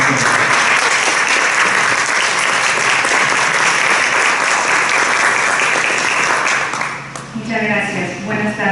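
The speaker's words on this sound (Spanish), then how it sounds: "Un aplauso para ella" Audience applause welcoming a speaker at a talk on the text as a communicative product, a loud, dense burst of clapping that fades out near the end as a voice starts speaking.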